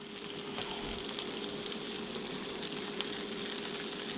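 An egg sizzling in a hot pan at breakfast, a steady, even crackle and hiss throughout with no talk.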